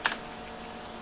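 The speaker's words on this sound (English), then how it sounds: "let's go ahead and type a D" A single key struck on a computer keyboard while drafting in CAD software, a short soft click or two, close and quiet against faint room hum.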